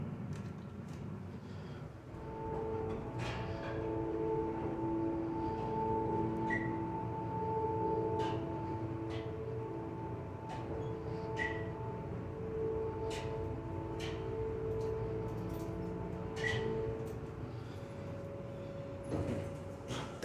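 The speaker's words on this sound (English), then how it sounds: "That is by far one of the most epic motors I ever heard." Dover Impulse hydraulic elevator motor at the Yancey Building in Raleigh, NC, running steadily for about twenty seconds as a sustained droning hum with tonal whine, accompanied by scattered faint clicks and knocks.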